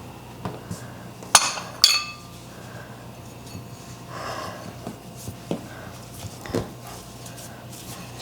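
Small bowls are packed into a box, giving a couple of faint, brief clinks amid quiet rustling and handling noise.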